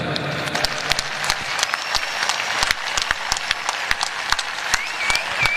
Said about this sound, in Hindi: उसके लिए जितनी तालियां बजाएं बजा लें